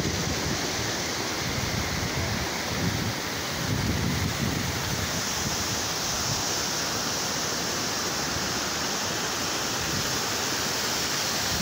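Waterfall at Boi Morto in Ceará, a steady broadband rush of falling water with wind buffeting the microphone, continuous and fairly loud throughout with no talk.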